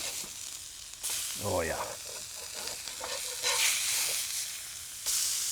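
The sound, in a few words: venison burgers sizzling as they are flipped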